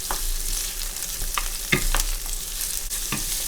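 Seeds, ginger and garlic stir-fried in hot oil for pepper shrimp, sizzling steadily while a utensil scrapes and stirs in a few sharp strokes; no one speaks.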